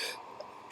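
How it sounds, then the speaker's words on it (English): A single sharp cough bursts out near the end after quiet, brief and close. "Sorry about all the coughing."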